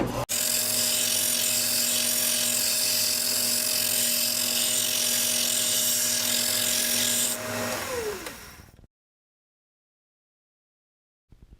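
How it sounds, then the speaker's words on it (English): A belt sander rounds the end of a metal rod, running loudly with a steady whine and a harsh grinding rasp for several seconds, then winds down and stops, leaving silence. "At the belt sander, we're going to remove the little burr on the end and round the edge over"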